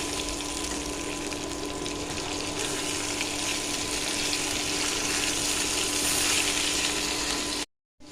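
Fish pieces rubbed with turmeric and salt frying in mustard oil, a steady hissing sizzle at moderate level, heard alone without talk before cutting off abruptly near the end.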